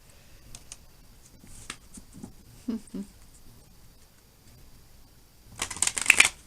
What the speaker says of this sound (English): I do always shuffle at least a little bit on camera